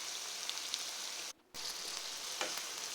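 Capsicum sizzling with onions in a hot pan, a steady close crackling fry that drops out for a brief moment before resuming.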